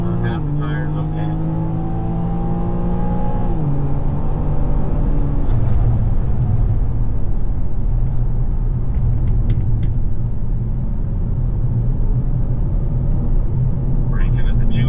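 A BMW M4 on a race track gives a loud, steady engine rumble that changes pitch as it shifts, with constant road and wind roar underneath, close and continuous throughout.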